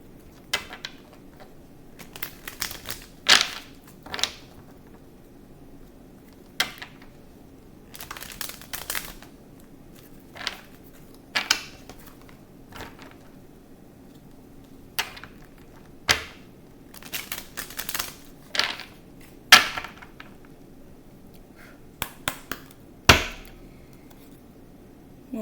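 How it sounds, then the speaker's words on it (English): Tarot cards being shuffled by hand, a series of sharp crisp riffles and card snaps at irregular intervals over quiet background, close and fairly loud. "I'm going to shuffle."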